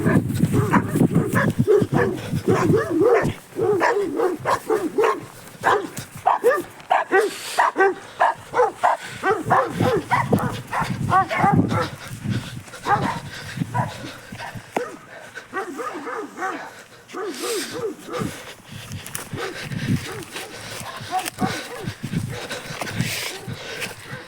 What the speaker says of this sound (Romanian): Câine.